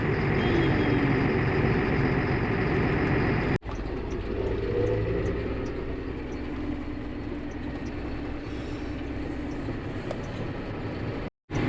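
A John Deere 7720 tractor travels down a wet road at speed, its engine a loud, steady rumble that eases slightly midway, heard from close by with no talk, broken twice by sudden brief dropouts.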